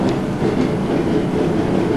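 A BR232 diesel freight train in Train Simulator 2013, running near Augsburg, gives a loud, steady rolling rumble with rail clatter throughout and no voices.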